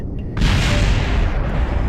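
In a video game, a sudden deep boom bursts in after a brief quiet, followed by a sustained rumbling roar that fades slightly.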